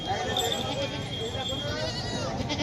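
A Sirohi breed goat bleats at a rural goat market, wavering cries close by over a busy background of crowd chatter and other livestock.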